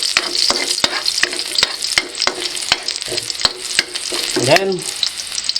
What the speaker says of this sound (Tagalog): Haluin po natin to hanggang sa mag golden brown.